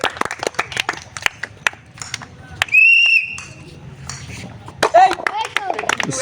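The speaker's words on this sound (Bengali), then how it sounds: "বল সকলে জোরে হাততালি।" Scattered, uneven clapping from an outdoor audience at a village ball-rolling bowl game, sharp separate claps that thin out, mixed with loud talking, a shrill whistle-like tone and lively chatter.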